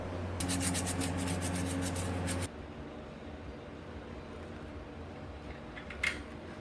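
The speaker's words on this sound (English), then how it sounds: "The driven pulley is sanded next." 400 grit sandpaper rubbing a band saw's driven pulley by hand, a close rapid scratchy rubbing for a couple of seconds, then quiet room tone with one faint tap.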